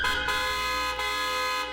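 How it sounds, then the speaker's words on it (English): A car horn honks in a sustained, steady blare in the Peachleaf Valley video game, with layered tones holding close and loud through the whole stretch. "a speeding car honks angrily at me"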